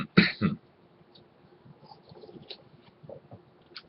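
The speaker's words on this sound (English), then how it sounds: "I have allergies, and I notice I tend to cough in the morning." A couple of short, harsh coughs come right at the start, then only faint background rustling and a few soft clicks.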